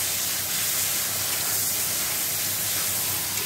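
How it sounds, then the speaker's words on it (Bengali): Prawns fry in hot oil with a dense, continuous hiss and sizzle that holds at an even, fairly loud level throughout, close up with no voices. "এখানে চিংড়ি মাছটা দেখো ভেজে নিচ্ছি।"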